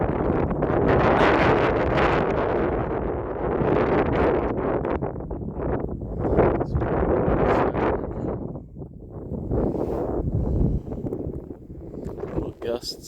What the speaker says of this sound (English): Little gusts.